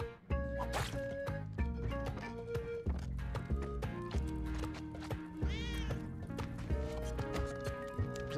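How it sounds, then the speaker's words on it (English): A cat meows briefly in the Spelunky platformer, a short, dense electronic cry over continuous game music with drips and squishy effects. "a kitty cat."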